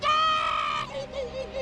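Gungan warriors in a Star Wars fan audio drama let out loud, tormented war cries, a sustained shout that breaks into a wavering, rising and falling yell.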